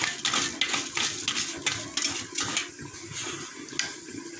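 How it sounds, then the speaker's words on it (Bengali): Soaked, pre-washed rice poured into a pot of partly boiled lentils, giving a run of wet rattling and clattering pours with light metallic pot knocks, close and steady with no talk. "এখন চাল দিয়ে দিচ্ছি।"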